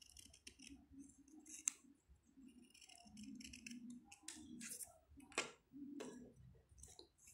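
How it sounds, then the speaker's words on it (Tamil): Scissors snipping through folded paper during a Tamil paper-craft demo for a dancing bunny, a run of close, quiet cuts and rustles in an uneven rhythm, with no talking over it. "ஃபோல்ட் பண்ணிவிட்டு அது இந்த மாதிரி கட் பண்ணுங்கள்"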